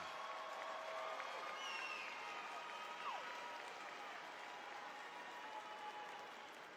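Faint, distant applause from a crowd at a McGavock High School 2024 graduation ceremony, a soft continuous wash of clapping that fades slightly at the end.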